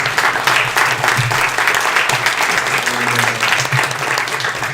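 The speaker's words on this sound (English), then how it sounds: "Let's have a round of applause for our panelists." An audience applauds panelists at the close of a movie discussion event: dense, loud clapping that continues steadily for the whole stretch, with a faint crowd murmur underneath.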